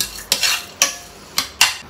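A spoon scrapes through dal in a pot on the stove, four bright, close clinks and scrapes arriving at uneven intervals over a quiet background, with no talk.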